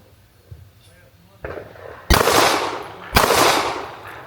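A 2011 pistol fired at an outdoor range: two loud, sharp shots about a second apart, each with a ringing tail, after a few softer knocks and handling sounds.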